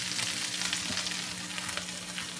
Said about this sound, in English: a slow sizzle